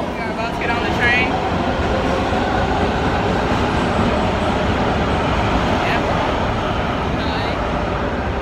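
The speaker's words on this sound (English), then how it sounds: "We are about to get on the train." Steady rumbling train noise with rolling rail clatter, continuous and fairly loud, with people talking faintly over it.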